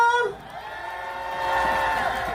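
A street rally crowd near Gyeongbokgung Station cheering and whooping, with raised voices swelling after a brief dip, moderately loud and somewhat distant.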